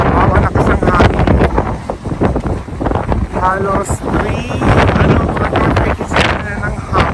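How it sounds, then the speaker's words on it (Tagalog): Strong gusts buffet the microphone outdoors on Strøget in Copenhagen on a rainy morning, loud rumbling wind noise throughout, with a person speaking briefly over it. "Malakas ang hangin."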